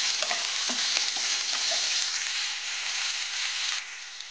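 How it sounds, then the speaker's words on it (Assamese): Chopped onions frying in hot oil for a pumpkin and fish curry, a steady close sizzle with a few light stirring clicks near the start, no voices. "তেল গৰম হৈ গ'ল। কাটি থোৱা পিঁয়াজ দি দিছোঁ।"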